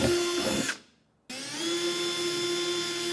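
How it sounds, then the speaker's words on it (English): A power drill with a 1/8 inch bit whines steadily, drilling holes in a 2020 Ford F-250 truck bed, cuts out briefly, then starts up again and keeps running at a high, even pitch. "with an 1/8 inch drill bit, we're going to go ahead and drill out all 6 of those holes."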